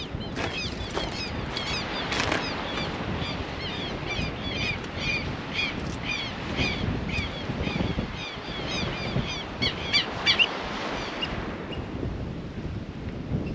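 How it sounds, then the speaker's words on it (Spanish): Birds call repeatedly by the sea on a coastal dune trail, rhythmic squawks over strong wind rumble buffeting the microphone throughout. "Ay, allá esos pájaros."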